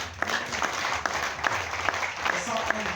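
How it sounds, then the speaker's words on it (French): Applause rises from the audience at a large conference, a steady wash of clapping with periodic sharper claps throughout, moderately loud, while an amplified voice continues over it. "Applaudissez."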